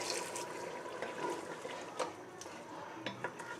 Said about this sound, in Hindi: और अब मैं इतना पानी इसमें ऐड करूँगी कि हमारा गोश्त ये अच्छी तरह से गल जाए।